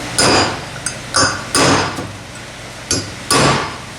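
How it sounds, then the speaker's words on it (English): Hammer blows driving a chisel to chip out a Ford 4R100 transmission seal, about five sharp metallic strikes in an uneven rhythm, close and loud with short ringing decays between hits. "You take your chisel and you carefully"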